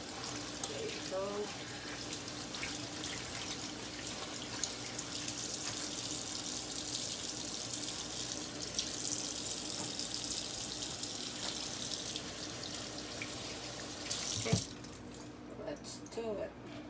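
Milkfish (bangus) being prepared for stuffing is rinsed under a running kitchen tap, giving a steady close rush of water. A splash and clatter come near the end, and a voice talks faintly in the background.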